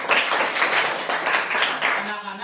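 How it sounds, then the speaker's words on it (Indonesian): Classroom of children applauding together, a dense sustained patter of many hands clapping at once, loud and close, fading toward the end. "Oke, beri tepuk tangan buat kita semua."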